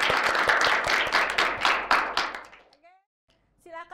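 A group of pupils in an Indonesian classroom bursts into applause at the end of a lesson. Dense, close clapping lasts about two and a half seconds and then fades, with voices briefly heard afterward.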